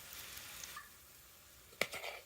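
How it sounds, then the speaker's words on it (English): Oxtails hitting hot grapeseed oil in a crock pot, giving a faint, soft sizzle with a brief sharper crackle near the end. "You're saying, Nick, it's sizzling."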